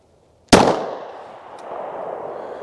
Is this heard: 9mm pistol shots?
yes